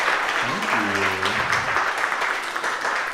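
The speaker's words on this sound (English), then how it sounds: "Can we have a round of applause for our flower blessers?" A congregation at a flower communion service applauds the flower blessers: continuous clapping throughout, with a voice briefly heard over it early on.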